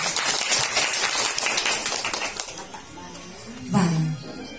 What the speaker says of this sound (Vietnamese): xin một tràng pháo tay thật lớn dành cho công ty VN